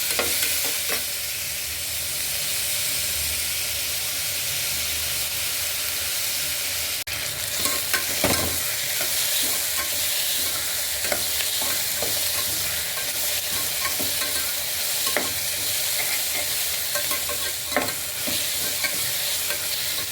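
Ingredients sautéing in a pan for roadside-style kurma (salna), a continuous close sizzle with frequent spatula scrapes and taps scattered throughout, no talking.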